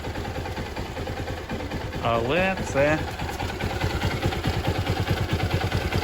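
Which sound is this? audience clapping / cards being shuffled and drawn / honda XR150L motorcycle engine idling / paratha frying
honda XR150L motorcycle engine idling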